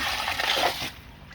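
Water rushing out of the purge valve on a Nexus Eazypod koi pond filter, a brief loud gush that fades into a softer splashing trickle, with no talking.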